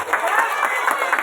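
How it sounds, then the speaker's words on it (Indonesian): An audience at a school Isra Mi'raj event at MI Al Ishlah Tiudan breaks into a short burst of steady, dense clapping throughout a hall. "Tepuk tangan dong buat MIA Islah."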